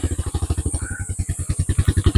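A motorcycle engine putters nearby in a steady, rapid pulsing beat, loud and alone with no talk over it.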